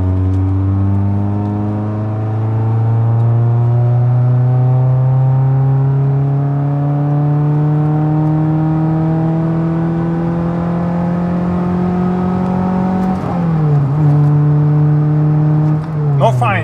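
A Toyota Celica VII with a naturally aspirated engine revving high while accelerating, the pitch climbing steadily for several seconds before a gear change drops it, then climbing again, loud and close from inside the car.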